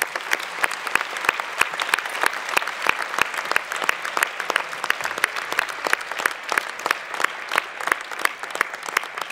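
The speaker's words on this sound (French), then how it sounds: "Et je veux bien que vous vous applaudissiez." An audience at a 2024 New Year greetings ceremony applauds in a dense, even burst of clapping that carries on for several seconds.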